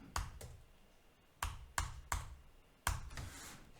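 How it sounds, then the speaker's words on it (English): Keys tapped on a computer keyboard in a quiet room while entering an admin password, a few sharp separate clicks with pauses, the last ones in a quick run, close and alone. "So let me just type admin,"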